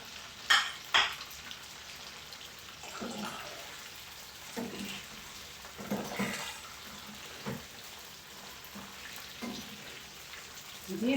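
Onion pakoda fries in hot oil, a soft steady sizzle broken by occasional louder splutters and clinks of a spoon stirring, fairly quiet and close.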